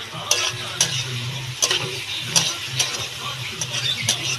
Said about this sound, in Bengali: এটাকে ভালো করে ভাজা ভাজা করে তারপরে এর মধ্যে একটু আদা দেবো।